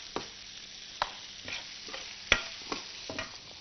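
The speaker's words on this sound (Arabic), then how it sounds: "يبقى كده البصل والثوم تقليبه كده" A spoon stirs finely chopped onion and a little minced garlic frying in fat in a pan, making soft rhythmic scrapes and knocks roughly every half second over a faint sizzle.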